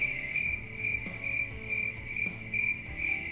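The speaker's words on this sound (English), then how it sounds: "That noise was a cricket." Cricket chirping played back through a phone speaker, a fast, steady pulsing trill in rhythmic bursts, loud and close and continuous with no voices.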